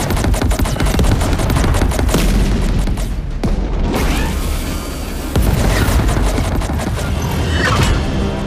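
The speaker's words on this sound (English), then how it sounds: "All stations, focus your fire in sector 475." Spaceship weapons in the game Chorus open up in a dense, continuous barrage of rapid blasts and booms that stay loud throughout, with no voices heard.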